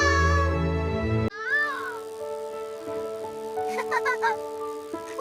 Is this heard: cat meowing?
yes